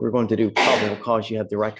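A single sharp sneeze bursts out in a courtroom, brief and loud, cutting into a person's ongoing speech.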